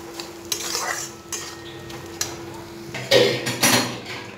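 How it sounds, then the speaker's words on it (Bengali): A spoon scrapes and clinks against a metal pan while a cooked potato stuffing for potol dolma is scooped into a bowl, giving a few light, close knocks and a louder scraping clatter near the end. "এইবারে পুরটা আমি একটি পাত্রে নামিয়ে নেব"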